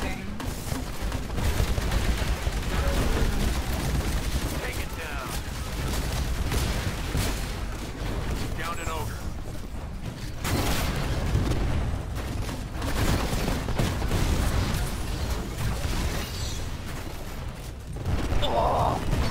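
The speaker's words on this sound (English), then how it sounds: "What kind of gun is this?" Video game gunfire, dense overlapping bursts and booms rattling almost continuously, loud and close, with brief voice exclamations mixed in.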